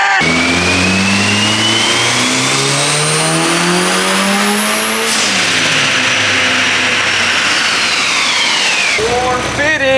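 A turbocharged Honda K-series engine in an S14 on a dyno, loud and close, revs hard with a steadily climbing pitch, then drops and settles into a steady high-rpm roar before winding up again.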